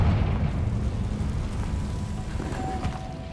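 Booming fiery blast of the Confringo spell in the video game Hogwarts Legacy, a loud rumbling explosion that fades out slowly over a few seconds.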